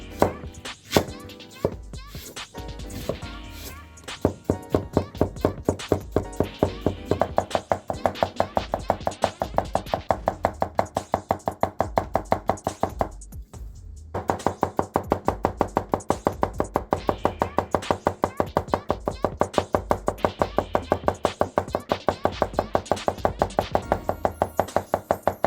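A knife chopping a chili pepper on a cutting board: a long run of rapid, sharp, evenly spaced knocks with a brief pause midway, close and fairly loud, no talking.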